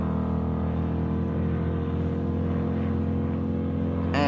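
A V8-powered motorboat runs at Deer Flats, its engine giving a deep, steady, throbbing rumble that stays loud and close throughout.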